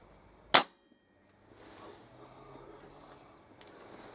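A single sharp crack from a Kral NP02 air rifle firing at a target, close and loud, followed by quiet ambient rustling.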